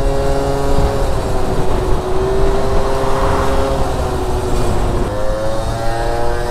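A Gilera Stalker scooter rides through the streets of Győr with the throttle held open, its engine droning loud and steady throughout with a slight rise and fall in pitch and no gear changes.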